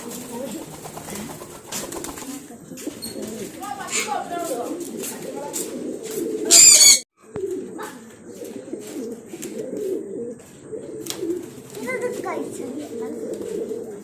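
Soft pigeon coos recur under nearby voices talking, interrupted briefly by a sharp burst of noise midway.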